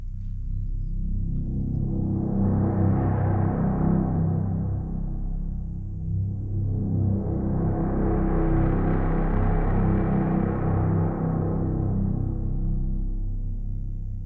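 Vocal drone from the Vocalise instrument run through a filter and distortion, sustained and continuous, swelling twice as the mod wheel is pushed up, opening bright harsh harmonics before settling back; no one speaks.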